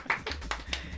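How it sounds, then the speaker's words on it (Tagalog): A small group of friends in a radio studio claps briefly: a few distinct, sharp hand claps close to the microphone, over a low background hum. "Palakpak naman dyan."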